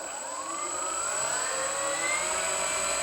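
Electric motors of a Dynam B-26 Marauder 1.5m twin-engine RC plane at test throttle, a steady high whine with a slowly rising tone, held for a few seconds.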